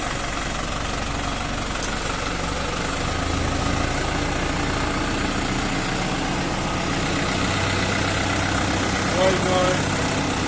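A tractor engine idles with a steady low rumble throughout, close and fairly loud, with a voice speaking briefly over it.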